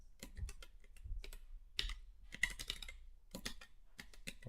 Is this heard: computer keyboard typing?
yes